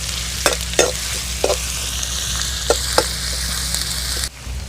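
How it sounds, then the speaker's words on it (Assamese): Chillies and crushed garlic frying in oil in a pan give a steady, close sizzle, broken by several scraping stir strokes, before the hiss drops sharply near the end. "এতিয়া এইখিনি মই অলপ সময়ৰ কাৰণে ৰঙচুৱা হোৱালৈকে ভাজি থাকিম।"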